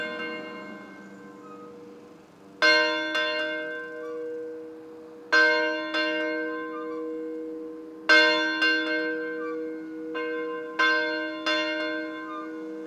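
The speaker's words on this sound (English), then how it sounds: "we were fortunate to have the bell raised into the tower, and it's now operational" A historic schoolhouse bell rings in its tower, struck in four separated bursts of several strokes each, every clang leaving a long, bright, ringing decay that hangs between strikes, heard alone.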